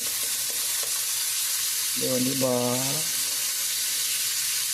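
Steady, hissing sizzle of fish frying in hot oil fills the whole clip, with a voice speaking briefly in the middle.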